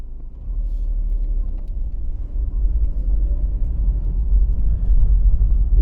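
An inexpensive used Seat Ibiza drives along with a steady low engine and road rumble heard from inside the cabin, the drone dipping and rising briefly as it shifts gear; no talking.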